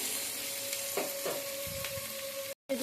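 Capsicum, tomato, onion and green chilli fry lightly in a pan with a steady close sizzle and a few soft stirring scrapes, ending in a brief silent gap.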